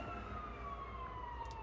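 Fire engine sirens wail faintly outside an open window, a steady distant tone slowly sliding in pitch over a low hum of background noise.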